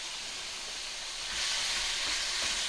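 Marinated pork fries in a hot skillet with a loud, steady hissing sizzle that swells noticeably louder partway through, close and without any talking.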